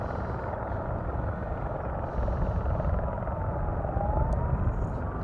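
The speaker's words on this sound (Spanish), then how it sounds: "Estos helicópteros que continúan trabajando de forma incesante para poder trasladar agua hasta este lugar." Firefighting helicopters carrying water over a forest fire in Pidihuinco, Chimbarongo: a continuous, dense rotor roar that swells slightly partway through, with no talk over it.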